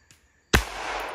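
A single revolver shot aimed at a steel target cracks out after a near-silent pause, a loud, sudden report followed by a sustained ringing, washy tail.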